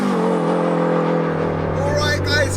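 The engine of a turbocharged Toyota MR2 sleeper build accelerates hard under load in a rising, steady drone, loud and close throughout with a brief sharp burst near the end.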